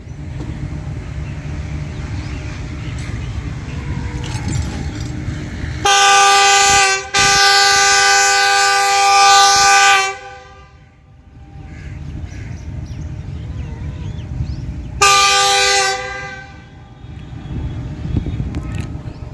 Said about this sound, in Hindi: 46 down Pakistan Express with GO 49008 departing from overtaking.